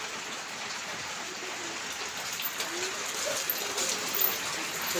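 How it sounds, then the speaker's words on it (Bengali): Steady, continuous rain falling during a heavy low-pressure downpour, an even hiss of drops on surfaces that holds throughout and swells slightly toward the end, with no talk. "দেখো বৃষ্টিটা দেখাই, একটানা বৃষ্টি, একটানা বৃষ্টি।"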